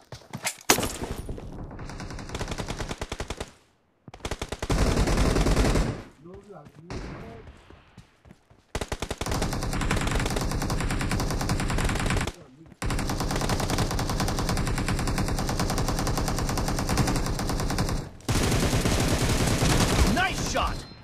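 Rapid automatic gunfire in a team-based shooter video game, sustained bursts broken by short pauses, loud and continuous over most of the stretch.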